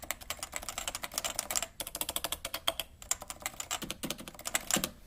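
Rapid, light keystrokes on a Topre Type Heaven keyboard, a steady close-up patter of soft clacks with brief pauses and no voices.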